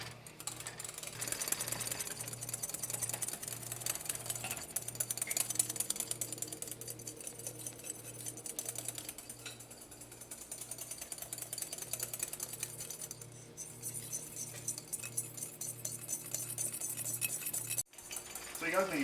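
Hollandaise sauce being whisked continuously in a bowl, a steady rapid rhythmic clatter of whisk against the sides, fairly close and sustained with a low hum beneath.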